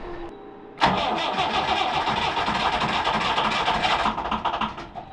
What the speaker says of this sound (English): It's pretty difficult starting conditions for anyone, but especially this little engine